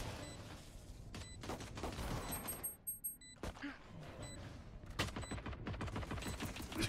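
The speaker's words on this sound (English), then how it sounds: "they're really shooting through the wall" Rapid gunfire in the video game Valorant, bursts of automatic shots fired through a wall, dense and continuous with sharp cracks layered over game effects.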